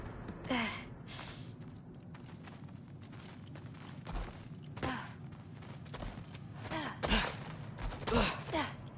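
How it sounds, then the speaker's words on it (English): Heavy breathing in a dim cellar in God of War Ragnarok, a series of audible gasps and sighs spaced across the scene over a low rumbling ambience, with faint footstep-like thuds in between. "I think I can hear something breathing near the back of the cellar."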